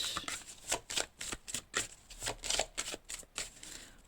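Tarot cards being cut and shuffled by hand, a close, steady run of crisp riffling flutters and soft slaps lasting several seconds, with no talking.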